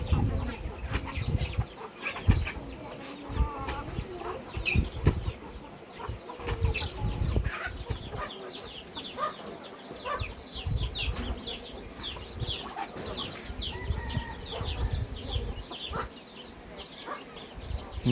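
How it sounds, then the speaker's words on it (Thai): Chickens and a rooster cluck and scratch while feeding in a rural Lao village yard, with scattered clucks and brief wing flaps over steady outdoor noise and occasional faint voices. "ไก่กินแบบนี้เป็นวิตามินเลย"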